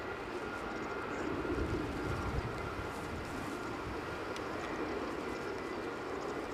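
An arriving airliner at Edinburgh Airport on a windy day produces a steady, distant jet roar with a low rumble, continuous and unbroken, with no talking.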